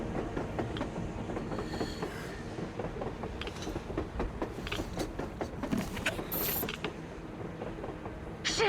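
A train rolling across the surface in the video game Metro Exodus, with a continuous rumbling, creaking rattle of wagons and metallic clanks, plus occasional higher squeals, loud and steady throughout.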